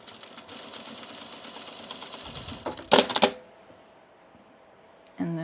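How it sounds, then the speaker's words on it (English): A sewing machine running top stitching on a sunblock top gives a moderate whirring run for about three seconds, then a sharp, loud clatter. A quieter lull follows, and a brief burst of sound comes at the end. "I'm just gonna try and sew. Just continue the top stitching."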